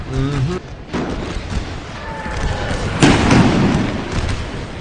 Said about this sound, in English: That artillery strike, though.